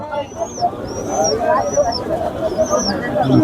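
Pigeons for sale at the traditional Parulia market in Debhata, Satkhira, cooing and calling repeatedly amid a busy hubbub of crowd chatter, with birds fairly close.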